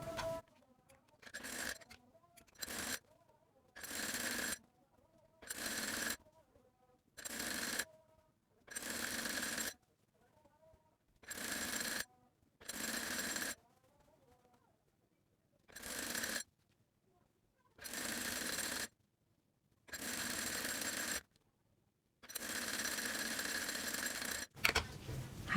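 An electric sewing machine stitches the leg seams of a salwar in short, evenly spaced bursts, each run of whirring broken by brief pauses, close and fairly quiet.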